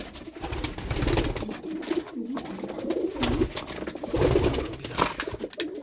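A young pigeon coos in soft repeated phrases in a loft among other pigeons, with a steady background of more birds cooing close by.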